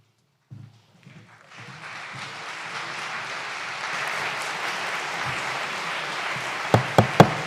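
Crowd applause at a special town meeting, building from silence into a sustained broad wash of clapping that grows louder, with a few sharper claps near the end.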